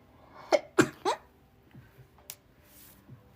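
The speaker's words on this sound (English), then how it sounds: "I gotta sneeze." Three quick, sharp sneezes in a row, close and loud, followed by soft breathy sounds.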